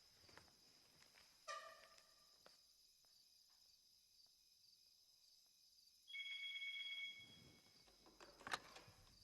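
A telephone rings in a quiet room, with a short electronic tone burst followed by a longer steady ring a few seconds later, faint against low background noise.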